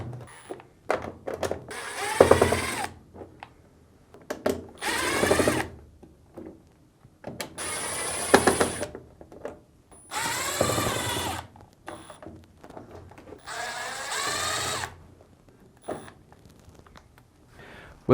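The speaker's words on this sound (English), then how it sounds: "Using a Phillips screwdriver, start by removing the 6 Phillips screws." Phillips screws being removed from the back cover of a Samsung washing machine with a powered driver, several whirring bursts of a few seconds each with quiet gaps between, fairly close and without speech.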